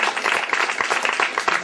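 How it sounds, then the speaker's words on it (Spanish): Audience applause at a children's birthday magic show, a dense, steady clatter of many hands clapping close by, loud and continuous throughout. "¡Fuerte el aplauso para ella!"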